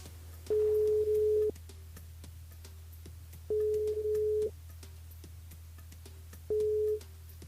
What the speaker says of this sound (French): on appelle David, participation, 16h57 aujourd'hui